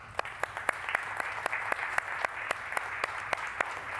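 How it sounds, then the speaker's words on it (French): Applause from an audience at a French-language event on access to information and French-language services, steady and moderately loud, with a few sharper individual claps standing out at a regular pace throughout. "Je pense que ça vaut une main d'applaudissement."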